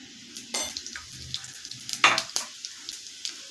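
Cumin seeds hit hot oil in a pan for a vegetable pulao, giving a steady close sizzle broken by sharp crackling pops and a few louder spits.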